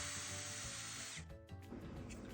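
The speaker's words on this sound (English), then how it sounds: "We'll clean it out with a drill bit." A drill bit bores out a plastic Wolfgang Puck Bistro mixer head, giving a loud, steady high whine that drops off partway through, followed by lower grinding and rattling.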